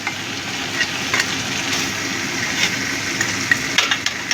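Mutton curry is stirred in a frying pan on the stove, with steady sizzling and frying and scattered scraping clicks of a utensil against the pan, close and continuous.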